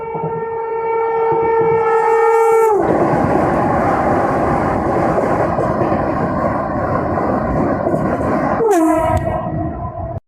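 A MEMU train crosses the Agra Vande Bharat at speed: a loud horn sounds, drops in pitch, and gives way to a roaring rush of passing carriages for several seconds before a second falling horn blast near the end.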